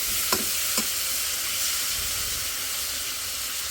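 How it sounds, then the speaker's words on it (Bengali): Beef fries hard in a pan on a home stove, giving a loud, continuous close-up sizzle and hiss with a couple of brief stirring scrapes early on. "একটু কড়া করে ভাজে তারপর ভুনা করবো"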